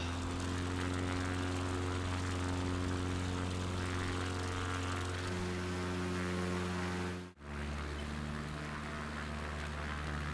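Propeller aircraft engine in the Microsoft Flight Simulator 2020 game drones steadily with a tonal hum. Near the end it drops out briefly and comes back at a lower pitch. There is no talk.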